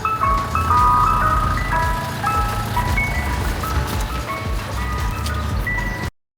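An ice cream van on a street in a Northern Cyprus ghost town plays its looping chime tune loudly and continuously over vehicle rumble, then cuts off sharply after about six seconds.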